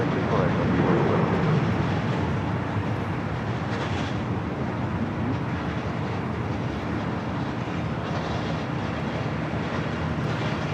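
Aircraft noise around the runways at LAX, a loud steady broadband roar of engines and wind with faint radio and voices talking underneath throughout.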